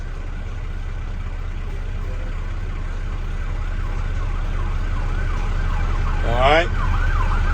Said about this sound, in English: We got a fire truck coming through.